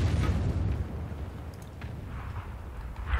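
In World of Tanks, an artillery shell bursts loud and deep at the start, followed by a lingering low rumble and scattered smaller crackles, with a faint second thump near the end.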